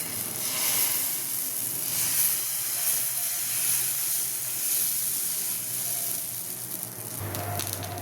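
Adai dosa batter sizzles on a hot pan, a continuous steamy hiss and crackle of frying that holds steady close by, with no talk.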